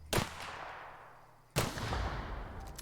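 Two sharp gunshots from The Outer Worlds video game, one near the start and one about halfway through, each with a long decaying tail. No one speaks.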